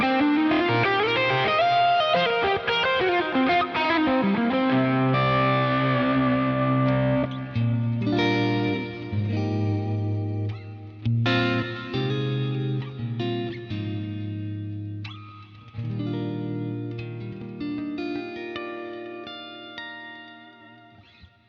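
Electric guitar run through a Line 6 HX Stomp effects loop, playing sustained distorted chords and notes drenched in chorus, echo and reverb, loud and continuous for over twenty seconds with no talking.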